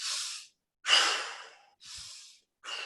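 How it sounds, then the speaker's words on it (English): Synchronized breathing exercise, with four audible breaths alternating inhale and exhale, close and airy, each lasting about half a second with short silent pauses between them. "The easiest way is to do the synchronized breathing like this."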